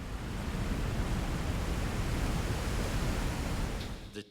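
Roaring whitewater of Lava Falls, the dangerous Colorado River rapids in the Grand Canyon, heard on a winter rafting trip as a loud, steady, wide roar that drops away abruptly near the end.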